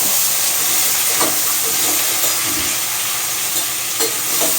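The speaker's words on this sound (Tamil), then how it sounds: "போட்டு நல்லா கிண்டி விடணும்" Pumpkin pieces are stirred in a pot over heat, giving a loud, continuous hissing sizzle with soft scraping strokes of the spoon through it, and no voices.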